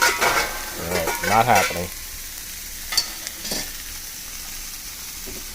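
Chop suey with imitation crab meat being stir-fried in a hot pan, a steady sizzle running throughout with a couple of sharp utensil scrapes, while someone speaks briefly over the frying at the start.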